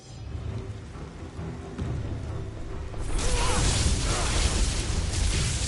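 A lightning strike in God of War 3 sets off a sudden, loud rumbling crash of thunder that rises halfway through and rolls on over a rain-like hiss, following quieter game ambience.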